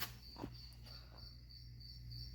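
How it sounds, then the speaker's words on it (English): Steady, shrill morning cricket chirping fills the background, continuous and fairly loud, with a faint low hum underneath and no voices. "I do apologize to the crickets. They're being really loud this morning."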